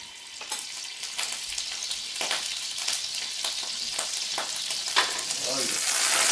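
Butter sizzles and crackles steadily in a hot frying pan, a continuous close, bright hiss with small pops, building slightly louder toward the end, while salmon is being pan seared.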